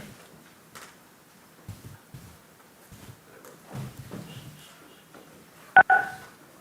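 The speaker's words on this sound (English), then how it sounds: "Press *6 to unmute your phone." Telephone keypad tones as a caller presses *6 to unmute on a city council meeting phone line: two short, sharp beeps near the end after faint background noise and shuffling.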